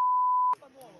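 A single loud, pure-tone censor bleep lasting about half a second, followed by faint talking.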